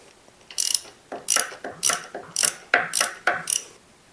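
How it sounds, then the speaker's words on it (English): A ratchet with a size 14 socket loosens the oil filler cap on a Rawrr Mantis X, giving about eight quick, crisp bursts of clicking in a steady back-and-forth rhythm, close up and alone. "I'm going to open the filler cap."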